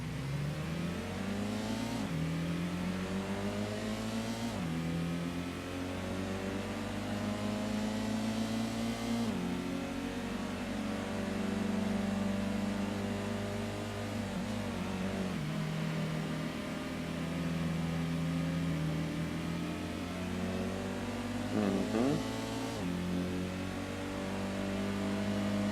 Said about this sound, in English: I am driving probably the fastest car in C-Class, because this Honda Civic looks and feels even faster than Mitsubishi Mirage.